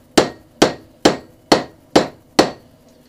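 Six evenly spaced hammer blows ring out on metal at a backyard blacksmith forge, sharp and loud with short decaying rings, about two strikes per second, no talking.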